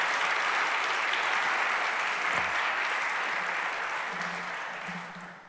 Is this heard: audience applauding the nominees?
yes